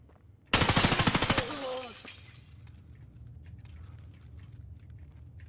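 A 5.56 rifle in the video game Escape From Tarkov, on the Labs map, fires a fast automatic burst of close, sharp shots for about a second, then its echo fades into a quieter, steady background.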